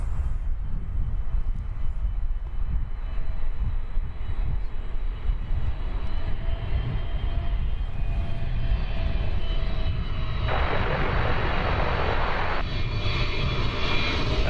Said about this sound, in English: And here comes another airplane.